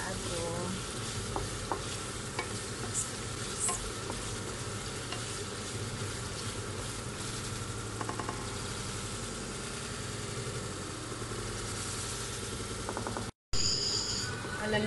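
Sotanghon glass noodles are sautéed in a pan, giving a steady, close sizzle with the scrape and toss of stirring throughout.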